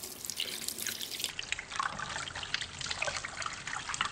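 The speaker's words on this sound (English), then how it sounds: "Let's add water, see what happens." Water trickles and splashes steadily into a batch of slime, a continuous close-up pouring sound with small dripping irregularities and no talking.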